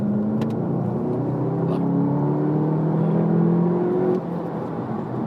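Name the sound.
Volkswagen Golf GTI Clubsport engine revving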